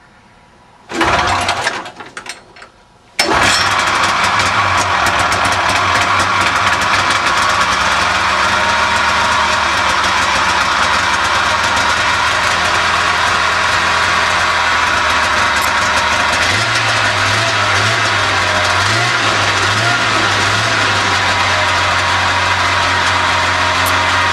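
A 1991 Polaris Indy 488 snowmobile engine is pull-started, a brief cranking burst followed by the two-stroke catching and running loud and close, idling steadily with a few rhythmic revs near the end.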